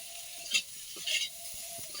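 Potatoes and green chillies frying in oil in a village kitchen, a soft steady sizzle with a few brief stirring scrapes, close and fairly quiet, no talking.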